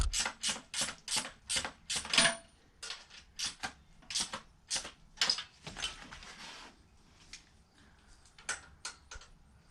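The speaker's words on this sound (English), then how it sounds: "let me run this in with the wrench first" Wrench running in a bolt on an engine guard for a 2018 Harley-Davidson Sport Glide Softail, heard as bursts of crisp ratcheting clicks in short repeated runs, close by with pauses between.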